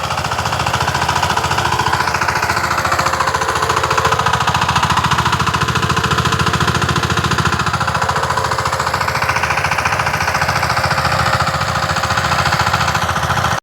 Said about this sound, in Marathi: ट्रॅक्टर चालवलं आहे आपलं.